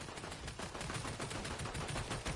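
Gunfire in a video game rattles as a dense, rapid barrage aimed at the player. It is steady and fairly muffled throughout, with no talking over it.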